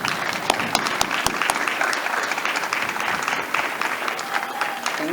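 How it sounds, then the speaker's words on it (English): A crowd at a college athletics Hall of Fame evening claps for the college president, steady dense applause filling the room for the whole stretch without anyone speaking. "Let's give her a nice round of applause."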